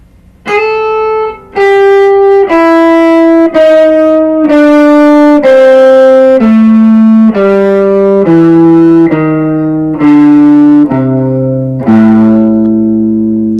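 An electric guitar plays the blues scale in A, a steady sequence of about thirteen single notes that climbs and then descends, clear and loud with sustained tones and no talking.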